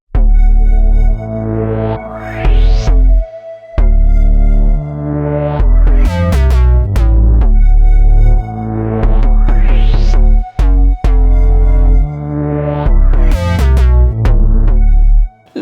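Layered synthesizer parts with bass play a looping pattern of rising sweeps and stabbing chords over a heavy pulsing low end, loud and alone with no talk.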